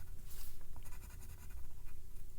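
A colored pencil scratches across paper in quick, quiet, uneven strokes, a soft close-up rasp while coloring in a cartoon drawing.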